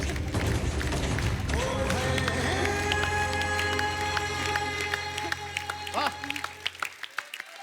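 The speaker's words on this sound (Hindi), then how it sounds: "जोरदार तालियां इसको दो के लिए" Studio audience applause and cheering on a Hindi comedy talk show, a dense loud wash of clapping at first that thins into scattered claps as music plays underneath.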